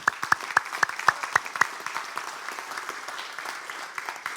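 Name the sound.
audience applause in church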